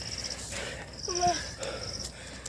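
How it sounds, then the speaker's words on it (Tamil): Heavy, wheezing breaths from a hiker out of breath after climbing a 1550-metre hill path to a temple, a few ragged inhales and exhales close to the mic. "மூச்சு வாங்குதுங்க."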